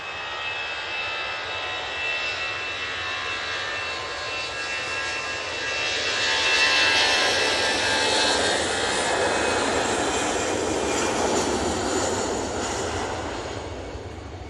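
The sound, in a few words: Easyjet Airbus A320-200 departing for Jersey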